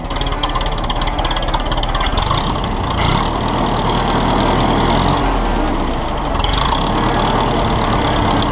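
An old tractor engine, restarted for the first time in years after a throttle rod fix, runs steadily and loudly with a low, rumbling idle throughout, close by and with no talking.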